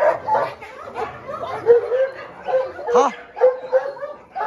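Several dogs at a mountain base barking, yipping and whimpering excitedly on their owner's return, close and loud bursts in quick succession, with a person's voice briefly heard among them.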